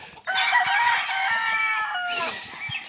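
Large fowl chickens in brood pens, a rooster crowing loudly and close in one long, drawn-out call followed by a second shorter crow, with faint clucking underneath.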